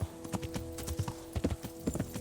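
Horse hooves clip-clop in a quick, steady rhythm at moderate distance in the medieval video game Kingdom Come: Deliverance, a brief run of even footfalls with no voices.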